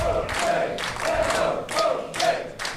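Indy wrestling crowd in Cathays cheering and chanting in loud rhythmic surges, roughly four swelling shouts in quick succession filling the hall.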